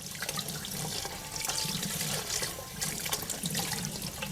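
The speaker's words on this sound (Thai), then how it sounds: "เราจะเปิดน้ำผ่านไปเลยนะคะ เพื่อเป็นการไล่ ความร้อนค่ะ" Tap water runs steadily over a batch of cooked pork to cool it, a continuous broad splashing and rushing stream close by, with no talking.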